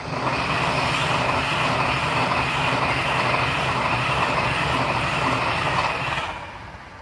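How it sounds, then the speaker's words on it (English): Pendolino tilting train rushing past close by, a steady loud roar of wheels and motors holding for several seconds before easing off at the end. "And here comes the Pendolino."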